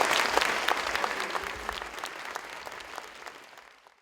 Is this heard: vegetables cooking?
no